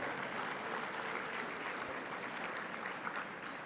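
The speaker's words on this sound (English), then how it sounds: "Now, let's give them applause." An audience at a community college World Citizen award event applauds honored guests, a continuous, even roar of many hands clapping, somewhat distant and moderate in level.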